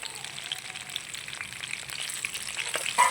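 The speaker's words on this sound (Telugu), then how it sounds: "ఆయిల్ హీట్ కదా ఫ్రెండ్స్ వంకాయలన్నీ వేసేద్దాం సిమ్లో పెట్టండి లైట్గా గోల్డెన్ కలర్ వచ్చే వరకు ఫ్రై చేసుకోవాలి" Brinjals frying in hot oil on a low flame for Hyderabadi-style bagara baingan make a soft, continuous bubbling hiss, fairly quiet and even, with a faint clink near the end and nobody speaking.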